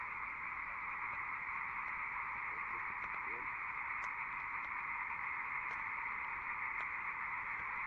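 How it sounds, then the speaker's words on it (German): A dense chorus of thousands of frogs croaking in a bog at night, a steady, far-off wall of sound with faint scattered clicks and no talk over it. "Da hinten ist ein Moor und das sind Tausende von Fröschen."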